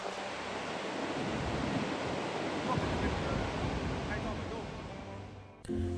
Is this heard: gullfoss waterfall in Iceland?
yes